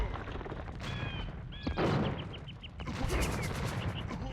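Bombard cannon shots in an Age of Empires-style match, several sharp booms and crackling impacts amid a busy battle soundscape with unit chirps, medium-loud and close.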